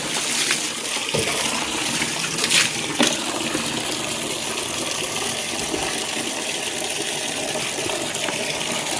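Water poured over a dirty motorbike during a wash at home, a steady, moderately loud splashing gush that runs without pause throughout.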